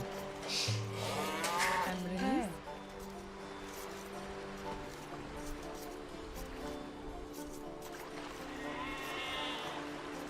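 Sheep in a medieval strategy video game bleat several times early on, short wavering calls, faint under a steady low game ambience with a voice talking.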